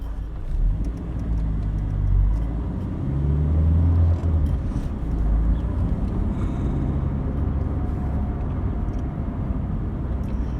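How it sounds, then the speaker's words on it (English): A 1986 Mk2 Vauxhall Cavalier idles and creeps along in traffic, its low engine rumble and cabin hum steady and close for the whole stretch, with no talking. "Good old traffic, you've got to love it, haven't you guys?"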